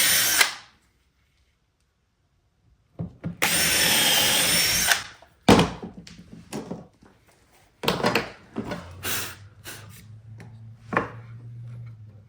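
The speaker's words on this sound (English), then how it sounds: "Just drill a quick pilot hole" Power drill boring a quick pilot hole into hard maple, in bursts of loud whirring and grinding with pauses between, close up and alone.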